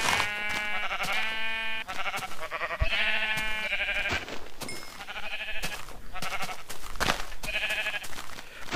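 Sheep in the video game Minecraft bleating repeatedly, several close, clear bleats in quick succession over a faint background, with no talking.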